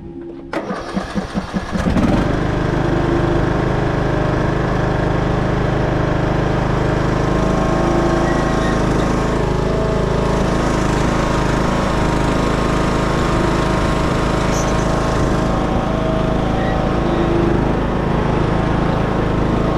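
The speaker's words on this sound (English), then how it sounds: "We're going to mow the grass" A lawn mower engine starts with a few sputtering pulls, then runs loud and steady at close range, droning continuously while it mows grass.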